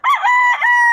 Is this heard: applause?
no